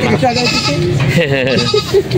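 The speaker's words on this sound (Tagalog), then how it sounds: "Ito ang pinakamalaking kambing na dumating dito sa bagay." Goats at a livestock market in Padre Garcia, Batangas, including a very large young goat, bleating close by amid busy market noise, with people talking over much of it.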